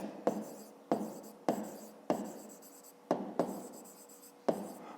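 Pen strokes on paper during a fifth-grade maths exercise: seven sharp scratching bursts at roughly regular intervals, each fading quickly, close and fairly quiet with no talk.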